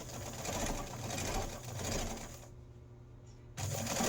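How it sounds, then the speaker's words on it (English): A sewing machine stitches through several stacked layers of fabric and patchwork for a notebook cover, a steady close mechanical whir that cuts out for about a second before resuming. "hopefully your machine doesn't hate you and can get through all those layers"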